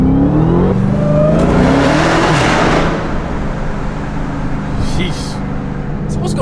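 A 2020 Dodge Charger Hellcat Widebody launches from 0 to 60, its loud engine roar rising in pitch through the gears and then fading as the car pulls away, with a voice briefly heard near the end.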